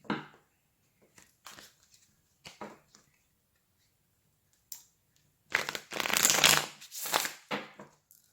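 A deck of oracle cards is handled quietly, with a few soft riffles and taps, then given a denser, louder shuffle in the second half, close by and with no talking.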